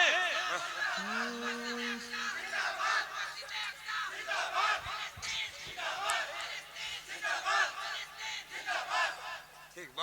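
A crowd at an Islamic jalsa gathering answers a takbir slogan call with a loud chorus of voices, rising and falling in waves over several seconds.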